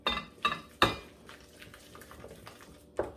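Batter for sweet and savory beignets being mixed by hand in a bowl after adding baking powder, with a few sharp utensil clinks against the bowl at the start, then softer, quieter stirring and scraping, and one more clink near the end.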